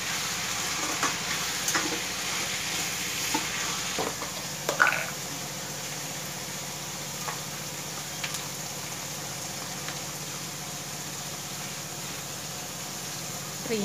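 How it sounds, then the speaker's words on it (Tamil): Mint and coriander leaves sauté in a hot pan for tomato rice, giving a steady close sizzle with occasional stirring scrapes and no talking. "புதினா கொத்தமல்லி இப்போ அது நெக்ஸ்ட்டு சேர்க்குறேன். ஒரு வதக்கு வதக்கணுன்னு வதங்கி வச்சுக்கோங்க."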